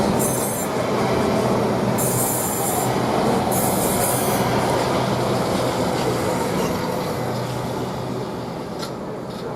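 A Class 395 train, unit 395028 in new livery, running through Rochester station, a loud steady rumble of wheels on rails with several high squeals and screeches from the wheels.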